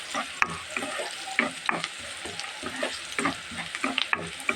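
Cabbage and shrimp with garlic paste, turmeric and salt stir-fry in a pan, giving a close sizzle broken by frequent scraping and clattering strokes of a spatula.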